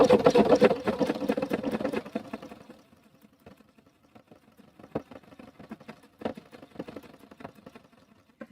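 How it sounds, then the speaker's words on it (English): A sewing machine stitching a pleather purse strap, a loud close rapid mechanical whir for about two seconds, then quieter intermittent clicks and short runs of stitching. "And I'm just going to stitch right down here, right like so."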